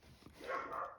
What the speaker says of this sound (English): Sorry if you can hear Douglas barking in the background.